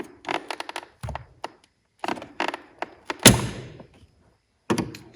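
Several light plastic taps and clicks, then one sharp pop as a Chevy Malibu door-handle catch snaps loose during door panel removal, followed by a few more faint knocks.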